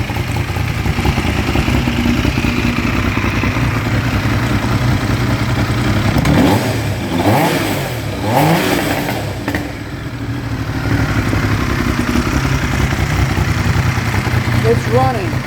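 A Triumph T595 motorcycle engine runs steadily in a workshop on fresh gasoline, oil and coolant, a loud, close, continuous idle with a brief blip in revs midway.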